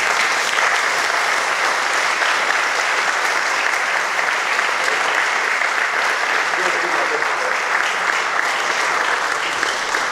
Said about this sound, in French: si nous pouvons applaudir très fort les enfants